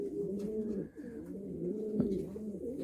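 A breeding pigeon coos steadily in a low, throaty murmur, soft and close, repeating without pause and with no talking.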